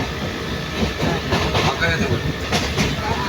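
Inside a moving passenger train, a loud steady rumble carries a rhythmic clickety-clack of the wagon wheels, with voices talking faintly underneath.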